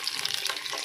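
Onions frying in hot oil for mutton biryani give off a steady, close, crackling sizzle with bright spitting pops throughout this brief moment.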